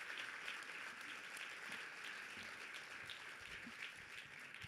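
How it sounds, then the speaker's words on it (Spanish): An audience applauds newspaper directors at a university media and democracy lecture, a faint, steady wash of clapping heard from a distance without a break. "un aplauso por favor para todos los directores aquí presentes"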